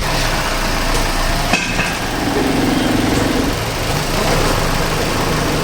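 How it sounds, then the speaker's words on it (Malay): A car engine idling with a faulty gearbox that jerks as a gear is engaged, heard as a steady close rumble with one brief thump and a faint whine partway through, no speech. "Sekarang ni kita masuk gear, memang sentak."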